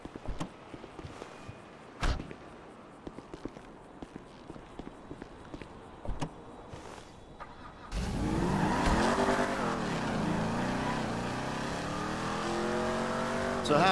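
A car in the video game Grand Theft Auto 5 starts off after a few scattered footsteps and clicks, its engine then revving loudly and steadily with shifting pitch as it drives away.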